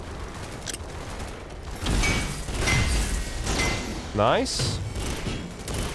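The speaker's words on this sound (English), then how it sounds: "Man, I'm just getting sniped from the side." Sniper gunfire in the video game Synthetik 2, several sharp shots and thuds scattered across the moment amid game effects, with someone briefly talking over it.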